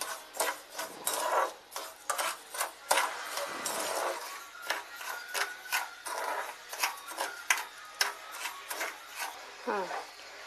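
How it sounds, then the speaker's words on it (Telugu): Melting sugar being stirred in a pan with a spoon, repeated scraping and rubbing strokes in an irregular rhythm, close and fairly quiet, with no talk. "పంచదార ఇలా కరుగుతూ ఉన్నప్పుడు కలుపుతూ ఉండాలి."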